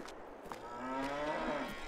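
A single drawn-out cow moo rises and falls over quiet farm ambience in Farming Simulator 22. It is fairly faint and lasts just under a second.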